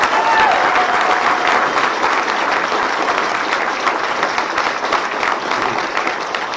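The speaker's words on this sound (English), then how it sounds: "Let's give a big round of applause for Representative Cord Bird" A large audience at a political event breaks into loud, sustained applause for a state representative, dense clapping filling the room throughout with faint crowd murmur underneath.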